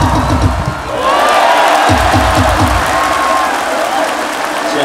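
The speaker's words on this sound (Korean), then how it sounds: "이번에는 우리의 박수와 목소리만으로 힘을 주도록 하겠습니다" A baseball stadium crowd at a Korean league game between the Hanwha Eagles and Doosan claps in loud, rhythmic unison and cheers steadily, with an announcer's voice mixed into the roar.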